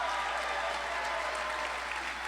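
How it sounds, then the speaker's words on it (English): Brief, steady applause from an audience at a State of the City address for the Aurora City Council, a continuous distant wash of clapping without pauses. "Round of applause for the Aurora City Council"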